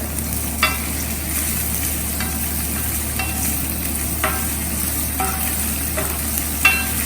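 A dry sabzi of cauliflower and potatoes with julienned ginger and green chillies fries in a pan with a low, steady sizzle, punctuated by several sharp clicks and scrapes of a spoon stirring, close up.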